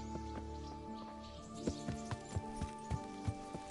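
Horse hooves clip-clop in a steady, moderately paced rhythm while a horse is ridden in a medieval-style video game, set over a constant ambient bed of rain-like hiss and low hum.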